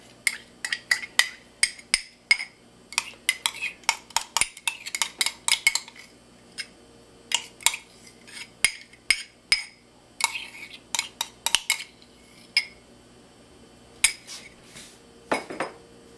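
A utensil stirs sour cream into beef stroganoff in a metal pan, giving loud, irregular scrapes and clinks that come in bursts with brief pauses over several seconds.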